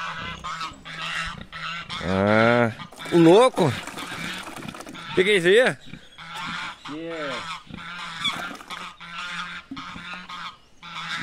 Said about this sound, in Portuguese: tem até uns gansos aí, marreca.